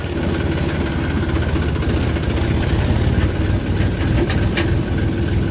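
A tractor engine idles steadily, the same engine as a 245 model, with a low rumbling drone and vibration running evenly throughout, close by and fairly loud with no talk.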